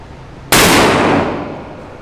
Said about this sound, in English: I will fire the left barrel first, which is more tightly choked.